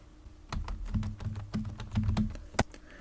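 Rapid typing on a computer keyboard during a Python coding session, with irregular clusters of sharp key clicks and a few heavier keystrokes, close and alone without talk.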